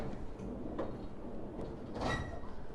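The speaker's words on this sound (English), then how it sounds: "I open the duster drawer" A steel vertical filing cabinet drawer opening, giving a low rumbling slide with a couple of soft knocks and a brighter scrape near the end, close and moderately loud.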